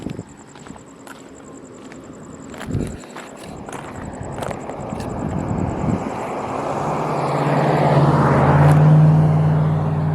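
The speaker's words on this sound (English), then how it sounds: "There's a car coming." A car approaching along a rural road at night, heard as a rising engine and tire hum that grows louder toward the end, over a background of insects and a few clicks and footsteps.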